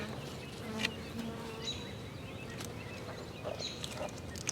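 A steady low insect drone of honeybees being installed in a hive fills the background, with faint scattered clicks and taps on top.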